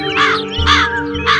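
Cartoon crows and other birds caw loudly in three bursts of harsh calls, close and repeated, with a low hum underneath.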